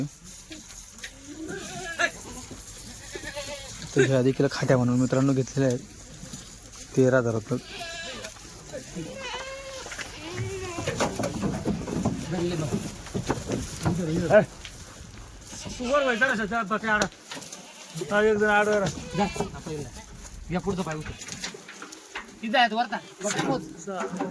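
Goats bleat repeatedly, near and loud, in wavering calls scattered through the stretch, sometimes overlapping, while people talk among them during milking.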